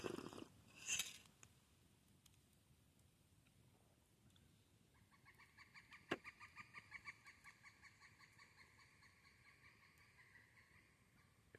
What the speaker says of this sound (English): If you know what kind of bird that is, tell me. It might be a chickadee